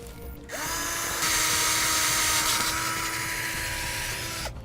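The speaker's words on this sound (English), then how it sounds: "and drill a pilot hole." A power drill bores a pilot hole in a boat trailer frame with one long, steady, loud whine after a brief start, alone with no voices.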